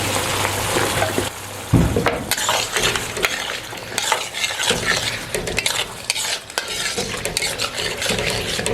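Whole red chilies crackle in hot cooking oil in a karahi, a dense continuous sizzle broken by scraping stirs and a few metallic clinks of a spoon against the pan.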